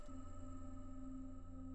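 Two noisy metaphysical function generators hold a steady, faint droning tone with a low hum and a thin high whistle, continuous and unchanging over a brief stretch.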